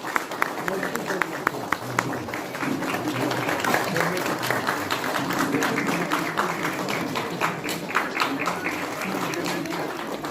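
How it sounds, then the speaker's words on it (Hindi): A crowd at a community celebration in Ziro claps as a presenter is introduced, with sharp individual claps standing out over a murmuring gathering and talk running underneath. "तालियां दोस्तों।"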